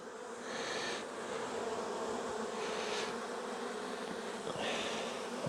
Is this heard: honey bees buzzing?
yes